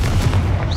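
Confringo blasting spell exploding in Hogwarts Legacy, a loud, brief booming burst with a deep low-end rumble filling the short moment, no talk over it.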